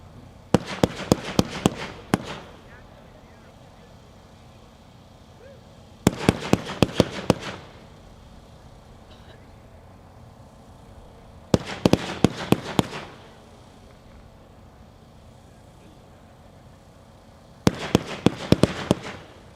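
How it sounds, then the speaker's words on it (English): A Dominator Pro 30-shot firework cake, Ghost Mine, fires four separate rapid volleys of sharp cracking shots, each burst lasting about a second and a half with pauses between, loud and fairly close. "Number 7 is Ghost Mine, another Dominator Pro level cake, pack 2, 1, 30 shots."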